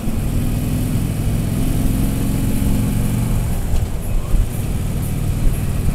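Around ten motorcycles, Harley-Davidsons, ride in a group along the seaside toward the Strait of Gibraltar. Their engines hold a steady, loud, low rumble that continues with no gaps.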